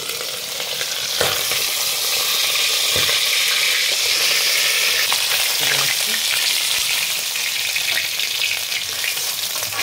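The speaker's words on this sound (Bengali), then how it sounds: "এবারে মাছগুলো ভাজবো আমি" Tangra fish sizzles steadily in hot oil seasoned with turmeric, a dense, continuous crackling hiss that stays loud and close throughout, with a few sharper pops and spatters.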